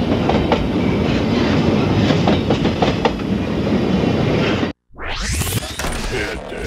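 A CNW model train running a four-unit locomotive consist, a steady close rumble with clickety-clack from the track that cuts out abruptly, then a rising whir as the next section starts.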